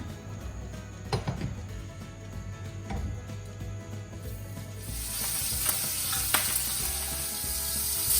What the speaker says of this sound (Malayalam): ഇനി നമ്മൾ മാരിനേറ്റ് ചെയ്ത് വെച്ചിട്ടുള്ള ഉണക്കസ്രാവ് ഒന്ന് ഫ്രൈ ചെയ്തെടുക്കുകയാണ്.